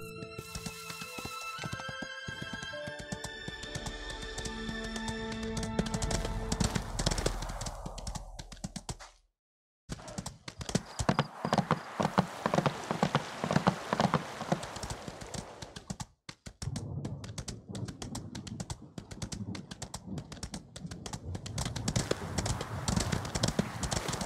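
Horse hooves clip-clop steadily as a horse is ridden in the video game Ostwind, a continuous rhythmic trot heard up close, with a game chime and brief gaps in sound.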